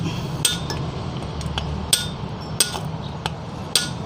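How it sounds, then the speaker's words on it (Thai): A grounding rod being driven into the earth with a chisel and hammer while installing a ground wire: about five sharp metallic clanks at uneven intervals, fairly close, over a low steady hum, with no talking. "ก็ใช้สกัดนะครับตอกลงไปเลยนะครับ"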